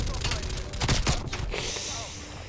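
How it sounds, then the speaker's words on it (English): Suppressed MP5 submachine gun fire in the Call of Duty Cold War video game comes in a quick burst of muffled shots that blend into dense game noise from start to finish. "I'm getting the feel of the silencer. I haven't used MP5 much"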